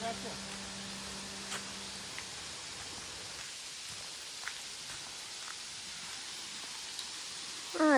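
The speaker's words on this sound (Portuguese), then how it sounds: "Pena que tá chovendo, né?" Steady, soft rain hiss runs throughout, with a few faint drops and taps standing out now and then.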